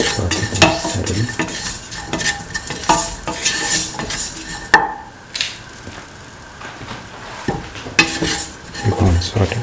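Garlic and other ingredients for a potato, soy chunk and coconut milk rice are sautéed in a pan, with frequent loud scraping and clattering stirs over a running sizzle that briefly quiets midway.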